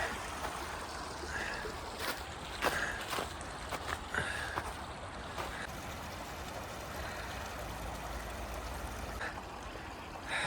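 A stream flows at a river crossing on a hike, a soft, steady wash of running water close by, with scattered footsteps and small knocks on top.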